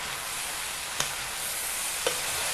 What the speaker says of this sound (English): I've been making a lot of chow mein, so now I'm going to mix it.